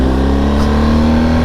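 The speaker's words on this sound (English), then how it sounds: "the camshaft just makes the strangest sound on this one" A BMW GSA motorcycle engine idles or runs steadily close by, a loud, even mechanical drone with an odd camshaft sound in its rumble.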